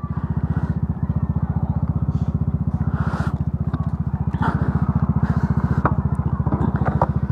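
A mud-spattered motorcycle idles close by after a rainy night, its engine chugging in a steady, rapid low pulse that holds evenly throughout with faint clatter on top.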